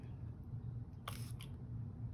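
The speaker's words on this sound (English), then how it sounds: "Whoops, and that was quite a strong spray." A spray bottle releases one short, hissing burst of Spectrafix fixative onto artwork, followed by a briefer second puff. Both bursts are brief and crisp against a quiet room hum.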